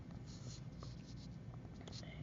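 Math equations being written out by hand, a soft, close scratching of pen or marker in short strokes, heard faintly beneath a man explaining as he works.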